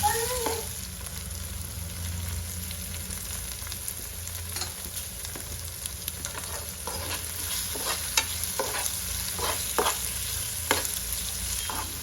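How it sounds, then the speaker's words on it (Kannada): Chicken and tomato being stirred in a hot frying pan, with steady sizzling throughout and repeated scraping strokes of a spoon against the pan, close and fairly loud, no talking. "ಚೆನ್ನಾಗಿ ಮಿಕ್ಸ್ ಮಾಡ್ಕೊಬೇಕು"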